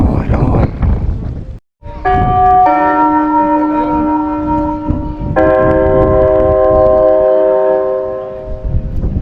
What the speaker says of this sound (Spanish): Qué hermoso que suenan las campanas, me encanta.